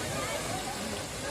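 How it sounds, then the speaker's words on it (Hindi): Rushing water pours down Mankadadian falls in Gajapati, a steady, broadband roar that stays constant and fairly loud for the whole short stretch, with no voices over it. "प्रकृति की गोद से बहती हुई झरना।"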